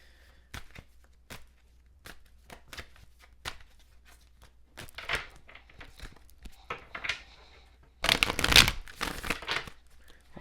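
Tarot cards are shuffled and riffled quietly nearby, giving soft crisp flicks and rustles that build to a louder burst of riffling near the end.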